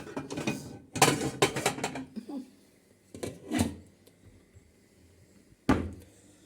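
Metal pot lid lifted off a cooking pot of pasta, with several clanks and scrapes in quick clusters and a final sharp clink after a pause, close and moderately loud.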